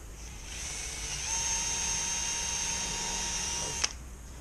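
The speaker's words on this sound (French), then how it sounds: "je vais le percer ici, à peu près" Power drill boring a hole through a wooden raised garden bed part, a steady high whine spinning up and holding for about three seconds before stopping abruptly.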